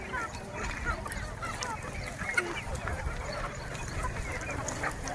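Village free-range chickens in a high-tech poultry setup, scratching and pecking at grain in the morning. Soft, steady rustling and scratching fills the clip, with scattered faint clucks and bird calls at a moderate distance.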